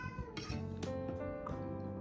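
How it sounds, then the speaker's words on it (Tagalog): A cat meows a few times in quick succession, close and clear, with faint clinks of dishes in a quiet indoor room. "pusa ko"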